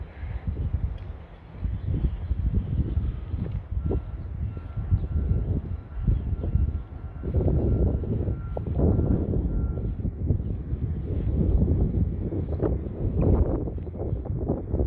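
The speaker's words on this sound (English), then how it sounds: "I say that and the wind picks up" Gusty wind blows outdoors in a cemetery, buffeting the microphone with a low, uneven rumble that swells and fades over the whole stretch, with faint rustling behind it.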